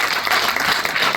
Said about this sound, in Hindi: एक बार ताली बजाकर धन्यवाद विनोद जी